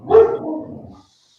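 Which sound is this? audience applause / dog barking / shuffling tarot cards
dog barking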